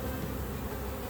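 A honey bee swarm buzzes steadily around a capture box, a dense low drone of many bees close by with no voices.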